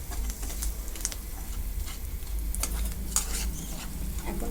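Spices and mustard paste stir-fried in oil for Bengali mustard hilsa give a steady close sizzle, with scraping stirring clicks scattered over the whole stretch and no voices.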